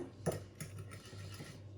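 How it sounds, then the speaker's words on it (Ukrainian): Quiet clinking and scraping of a spoon against a bowl as a yeast dough mixture is stirred, with irregular taps over a low hum. "Це все зараз я ретельно перемішаю."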